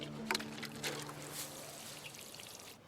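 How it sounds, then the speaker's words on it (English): Water poured steadily over newly planted cherry tomato seedlings in an organic garden bed, a soft continuous trickle and splash heard close but quietly, with no talking. "and then water it in."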